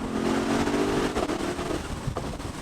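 A Mercedes-AMG SL63 roadster's turbocharged engine pulls hard under acceleration, a loud, rough, steady roar heard from inside the car with turbo whoosh over the rumble.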